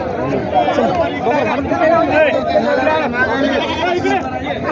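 Goats bleating repeatedly at a busy Saturday goat market in Gangakhed, overlapping calls mixed with constant crowd chatter and people talking throughout.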